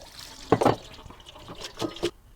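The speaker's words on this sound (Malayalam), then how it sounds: "അത് ചൂട് കുറക്കാൻ വേണ്ടിയിട്ട് കുറച്ച് വെള്ളം ഒഴിക്കുന്നുണ്ട്." Cold water poured into a pot of boiling pasta to stop it boiling over, heard as a few short splashing pours in quick bursts, close and moderately loud with no talk.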